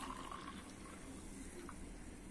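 Hot water, not too hot, pours into a vessel while preparing a homemade biotin hair powder mix; a steady, close splashing stream runs through the whole short stretch with no talking.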